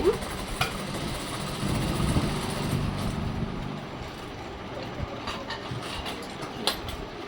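A sewing machine stitches a prince-cut blouse with a fast, close mechanical whirr and rattle. The running is strongest early on, then settles into quieter clicks and light ticking.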